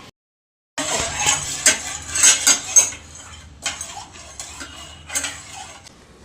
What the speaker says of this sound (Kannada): ಆಮೇಲೆ ಹಿಂಗೆ ಮಿಕ್ಸ್ ಮಾಡ್ತಾ ಇರ್ಬೇಕು